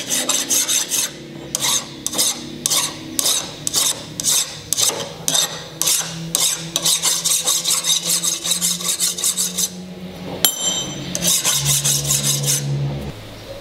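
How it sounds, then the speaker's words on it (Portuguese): A hand file rasps burrs off the edge of a freshly drilled hole in steel while making splined dowels, in steady repeated strokes, close and fairly loud, with no talk. "com o auxílio de uma lima ou de uma esmilhadeira, tire as rebarbas"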